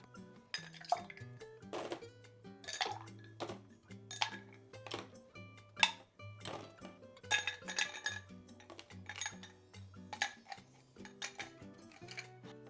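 Ice cubes clink and rattle against a cocktail glass in repeated bright, irregular taps, close and fairly quiet, with music playing softly underneath.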